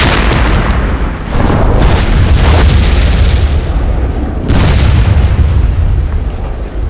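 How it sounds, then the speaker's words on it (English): A bridge is blown up in a powerful demolition explosion amid a Vietnam War tank battle, a heavy sustained roar with a second booming surge midway, loud and rumbling throughout. "The defenders blow the bridge."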